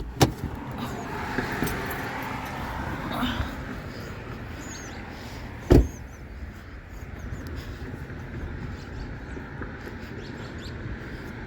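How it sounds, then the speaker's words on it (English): Cars driving past on a street, heard from a parked car as a steady road rush with passing swells and a sharp knock partway through, under faint background noise. "I'm just waiting for all the cars to go past so I can get out."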